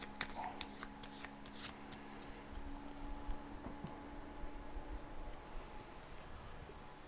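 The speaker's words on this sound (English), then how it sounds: "the remainder of the hurdle cards get shuffled and put in place as a draw deck of hurdles" Hurdle cards from a My Little Pony deck-building game being shuffled by hand, a quick burst of riffling card flutters in the first two seconds, then soft handling noise under a low steady hum.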